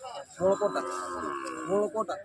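A Khillar bull at a crowded cattle market during the Solapur Gadda fair gives a drawn-out, low, throaty moo lasting a couple of seconds, close by.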